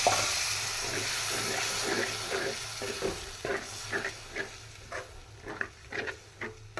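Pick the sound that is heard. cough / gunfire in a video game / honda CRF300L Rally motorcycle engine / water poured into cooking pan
water poured into cooking pan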